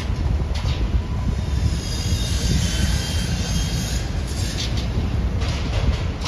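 Hiroshima Electric Railway streetcars rumble through the busy tram terminal at Hiroshima Station, a loud, steady rolling roar with grinding wheel noise and a thin high squeal running throughout, heard close and without voices.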